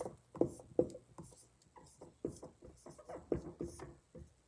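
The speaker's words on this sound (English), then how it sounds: "I want to write a sentence here" A marker or pen writes a sentence on a classroom board, rhythmic scratchy strokes repeating steadily, close and moderately loud.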